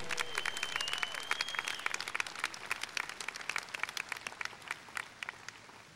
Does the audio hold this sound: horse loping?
no